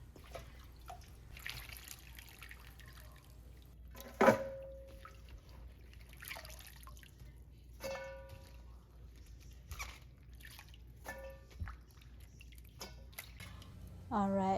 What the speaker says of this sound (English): then give it a rinse one more time.